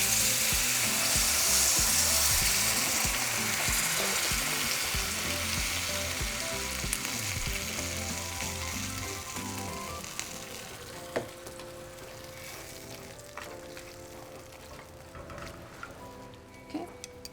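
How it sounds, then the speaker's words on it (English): Beef broth hits a hot pan of chiles and sizzles loudly at first, the frying hiss slowly fading over about seventeen seconds, with occasional clinks and stirring sounds, and no voices. "after the couple seconds, we're going to add our beef broth."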